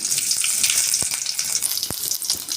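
Mustard seeds, cumin, curry leaves and green chillies fry in hot oil for an egg ullikaram, giving a steady, close, loud sizzle with a few sharp crackles and pops and no talking.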